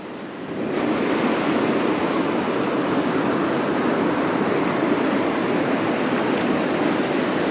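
Sea waves wash onto the beach at Compton Bay on the Isle of Wight while a fossil is rinsed in the water, a loud continuous surf roar rising at the start, with wind buffeting the microphone.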